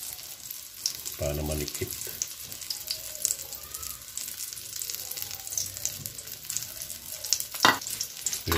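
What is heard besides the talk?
scrambled egg frying on eggplant torta with ground pork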